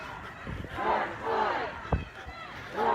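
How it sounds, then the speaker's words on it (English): Hundreds of Black Lives Matter protesters marching through Flushing, Michigan chant and shout together, a mid-distance crowd roar swelling in repeated waves. "and watching the crowd move by"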